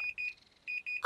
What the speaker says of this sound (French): c'est la sonnerie du four